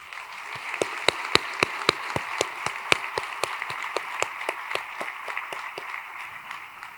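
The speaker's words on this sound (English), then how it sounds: "please join me in giving all our nominees a big round of applause." Audience applause for award nominees at a school district celebration: a round of distinct, sharp claps in a steady rhythm that thins out toward the end, clear and fairly close with no talking over it.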